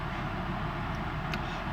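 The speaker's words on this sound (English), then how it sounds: "That's what that noise you're hearing is the fan up here." An electric fan runs with a steady, even broadband whoosh that stays constant throughout, close and fairly quiet, with no talking over it.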